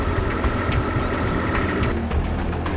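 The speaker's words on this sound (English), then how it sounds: "Wait for the preheat and start the engine." A Palfinger Crayler remote-controlled, air-transportable military field loader's engine runs at a steady, low rumbling idle, close and continuous with no voices.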